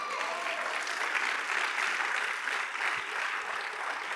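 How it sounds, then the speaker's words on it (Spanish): Church congregation applauding steadily throughout, a dense, sustained clapping of many hands with no break. "denle un aplauso a Dios"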